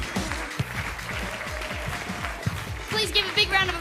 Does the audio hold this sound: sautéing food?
no